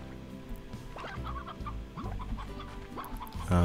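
Chickens in the Slime Rancher video game cluck steadily in a busy, close flock of short, overlapping calls over a low background hum, with no speech.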